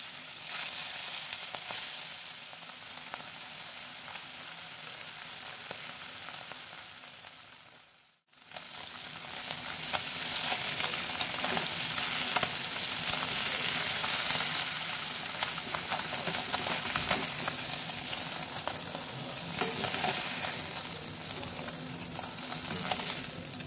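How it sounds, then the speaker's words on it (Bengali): Small puti fish (pool barb), rubbed with salt and turmeric, frying lightly in hot oil in a kadai, giving a steady loud sizzle that briefly drops out partway through and then returns stronger. "এবার এই মাছটাকে একটু এই তেলে হালকা করে একটু ভেজে নিচ্ছি।"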